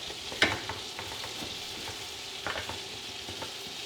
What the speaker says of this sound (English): move your butter around a little bit